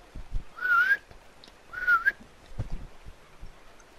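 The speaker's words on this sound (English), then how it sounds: "Just whistle for it," Two short rising whistles call a horse in a western video game, each clear and close, separated by a pause, with soft thumps around them.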